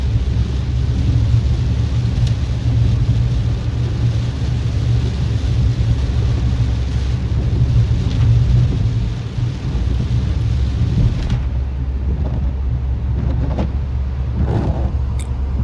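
Heavy rain drumming on a car while driving in Japan, a dense, steady roar with low road rumble that continues throughout.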